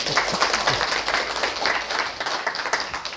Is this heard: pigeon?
no